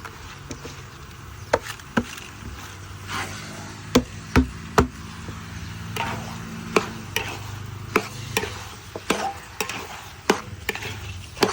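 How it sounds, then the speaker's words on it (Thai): Rice is stir-fried in a pan, with sharp clacks and scrapes of a utensil against the pan at an irregular rhythm over a soft sizzling bed, close up and without speech. "เราผัดข้าวไปเลย ผัดคลุกเขาให้เข้ากันไปเลยนะครับผม"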